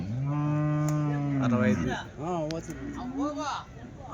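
Calves at a Sunday cattle market in Chintamani give a long, loud moo up close, followed by a person talking over the market noise.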